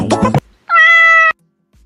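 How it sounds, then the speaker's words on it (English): A cat lets out one clear, loud, drawn-out meow close up, following a brief burst of voice and then silence. "That's a great cat."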